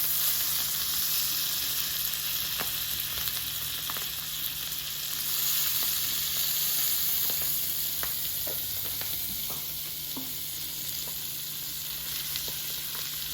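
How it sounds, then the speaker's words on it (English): A salmon fillet sears in a hot pan with lemon juice and is basted, giving a continuous close sizzle with a few soft crackles throughout and no talking. "And you want to baste it while it's searing."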